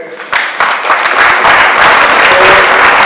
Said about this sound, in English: we'll clap for them